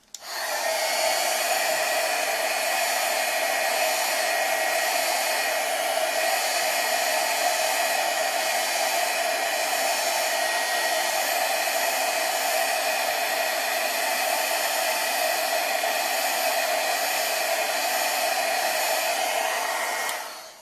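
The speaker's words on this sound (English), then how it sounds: "I'm going to first just melt slightly down the middle of the feather. So take my heat gun." A heat gun melting a feather cut from a paper chip bag, a loud, steady, close blowing roar that runs unbroken from start to finish with no talk.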